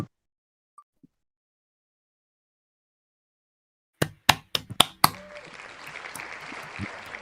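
A few sharp, separate hand claps ring out close by, followed by a brief burst of claps and a wash of broader noise, with no talking over them.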